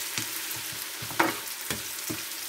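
Onion sizzles in hot oil in a wok, a steady frying hiss broken by a few sharp scrapes and stirring knocks at close range, with no talking.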